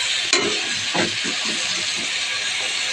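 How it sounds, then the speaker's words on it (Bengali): Chicken meat being sautéed for kosha in a pan gives a continuous hiss and sizzle, with a few soft clinks and stirring scrapes, close and steady. "কষাচ্ছি মাংসটা।"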